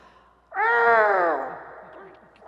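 A voice imitates a small kitten's meow, a single drawn-out, high, wavering mewing call lasting about a second, loud and close, with room ambience and a meeting-room setting around it.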